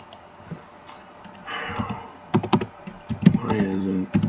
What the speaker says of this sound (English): if I type it in